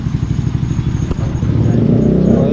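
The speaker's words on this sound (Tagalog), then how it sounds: "ganda ng motor ni boss, oh" A motorcycle idles close by with a low, throbbing engine rumble that grows slightly louder and steadier toward the end, with a faint clatter partway through.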